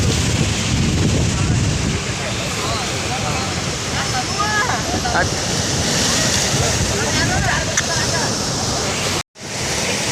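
Monsoon-swollen Gokak Falls sends up a continuous loud, broadband roar of rushing water mixed with wind buffeting the microphone, with faint voices in the background and a brief dropout near the end.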